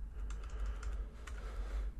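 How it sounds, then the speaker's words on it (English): Code is typed on a computer keyboard in a fast, steady run of keystrokes lasting a couple of seconds, heard alone over a constant low hum. "so we can start typing in some code"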